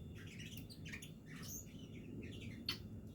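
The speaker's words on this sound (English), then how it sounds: "Out here with the birds today." Bourke's parakeets in an outdoor aviary give soft scattered chirps and tweets, faint and intermittent over a low rumbling background, with one sharper chirp near the end.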